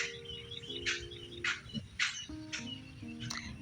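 Birds calling outdoors: a series of short, sharp chirps at roughly half-second intervals over soft steady tones and low background hum, fairly faint and distant, with no talking.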